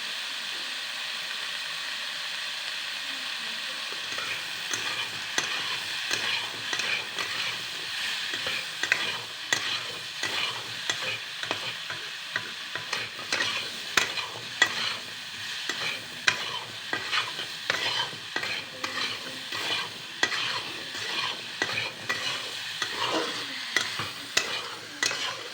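Food is stirred in a sizzling pan with salt and turmeric added, a steady frying hiss broken by repeated scraping strokes of the spoon, close and moderately loud.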